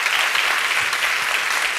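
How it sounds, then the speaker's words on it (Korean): Church congregation applauding during a sacrament service, a steady, dense wash of many hands clapping close and loud throughout, with no voices over it. "우리 큰 박수로 축복합니다"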